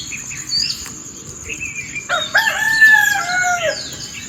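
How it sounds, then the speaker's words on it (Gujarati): A rooster crows once near the microphone in the morning, a drawn-out call rising and falling over soft outdoor background noise. "કુકડો બોલે હો,"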